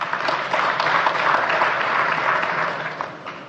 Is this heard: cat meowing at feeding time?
no